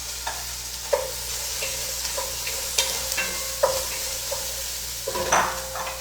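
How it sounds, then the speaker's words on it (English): A spoon stirring a pot of veggie soup as broccoli is added, with a gentle sizzle underneath and a series of distinct knocks and clinks against the pot at irregular intervals, close and clear. "I'm going to give this a stir. I'm going to add in the broccoli while I do it."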